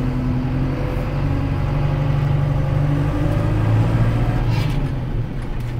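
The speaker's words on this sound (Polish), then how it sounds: "Spróbujemy ciągnikiem się kawałek przejechać" Renault Celtis 456 RX tractor driving, its engine a loud, steady low rumble with a droning hum that shifts slightly in pitch as it moves, close by and without talk.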